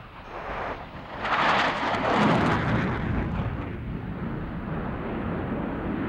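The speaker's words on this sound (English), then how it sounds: "Throughout the turn, which will be flown in full afterburner, Gary will experience over 7 times the force" An F/A-18 Hornet fighter jet roars past while turning in full afterburner, a broad, rumbling blast that swells and then holds steady, loud and continuous with no voices.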